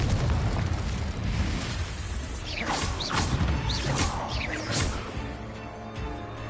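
Incendio and Confringo spell blasts in the Hogwarts Legacy video game burst in a series of loud fiery whooshes and booms, with a rumbling battle din throughout and sweeping magical streaks in the middle.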